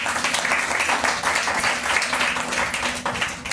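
An audience at a church sermon claps loudly together, a dense steady burst of applause that carries on for several seconds, with a faint murmur of voices underneath.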